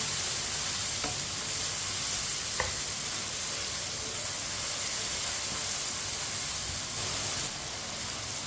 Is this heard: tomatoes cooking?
yes